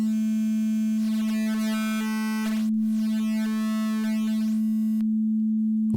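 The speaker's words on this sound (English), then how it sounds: "Might be more apparent if I put a sine wave on there" A steady sine tone holds throughout while gritty, harmonic-rich digital bit-crusher distortion from a disting mk3 module sweeps and shifts over it, then cuts back to the plain tone.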